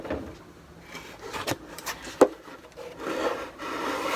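Sandpaper rubs across the wooden wing root of a model aircraft in short, uneven strokes, fairly quiet and close, with a couple of sharper scrapes and knocks between passes.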